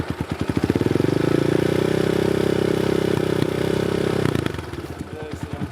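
A Hurricane V2 Nitro Motors 250cc dirt bike engine revs hard and holds a loud, sustained note for several seconds, then drops back toward a rough idle, close to the microphone.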